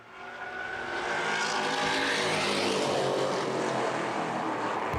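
Street stock race cars accelerate together off turn four at the start of a CRA All-Star Dash race, and the loud engine roar swells quickly and then holds as a dense, steady drone.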